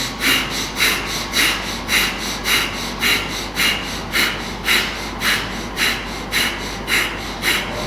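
Rapid, forceful Bhastrika bellows breathing during a yoga practice, with about sixteen loud, evenly spaced rushing breaths in a steady pulse, close to the mic and uninterrupted by talk.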